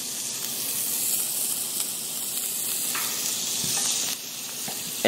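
Butter sizzles in a hot cast iron skillet with a steady, close frying hiss that holds evenly throughout, with a few faint clinks near the end.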